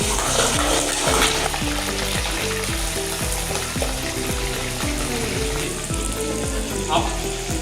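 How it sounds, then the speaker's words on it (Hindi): Chicken pieces, about 800 grams, frying in half a litre of oil in a pan, a steady loud sizzle with repeated rhythmic stirring scrapes throughout, close by and alone. "सबसे पहले हम चिकन को इसमें डाल के फ्राई करेंगे।"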